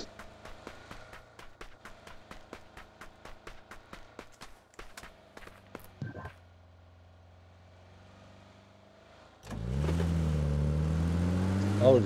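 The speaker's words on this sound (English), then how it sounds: "Oh, there's an enemy vehicle right here." An enemy vehicle engine in the video game PUBG New State drones and then swells loud near the end, following a stretch of rapid rhythmic gunfire clicks and a quieter lull.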